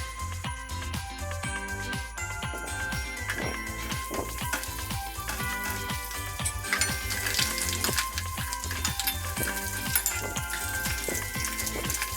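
Sun-dried fish sizzles and spatters in hot oil in a pan, a steady dense crackle with faint popping, close and continuous with no talk.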